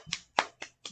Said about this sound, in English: You guys need to be a little bit more generous with your applause here, folks.